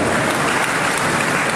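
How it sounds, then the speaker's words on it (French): Audience at a graduation ceremony applauding, a thick, steady roar of many hands clapping loudly for the whole short stretch. "je vous demande d'applaudir l'arrivée"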